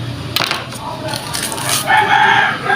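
Poultry, tagged as a rooster and fowl, at a rural home in the evening in September: crowing-like calls and clucks rise amid clattering background noise, with no talk.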